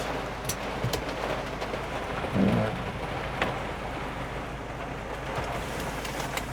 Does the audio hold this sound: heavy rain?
yes